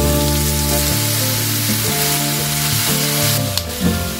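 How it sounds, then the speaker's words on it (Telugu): Chopped choko (chayote) pieces and onions sizzle steadily in a pan for a vegetable curry, a continuous frying hiss under soft background music with no talking. "ఉల్లిపాయలు కొంచెం వేగిన తర్వాత కట్ చేసి పెట్టుకున్న చోకో ముక్కల్ని వేసుకోవాలి"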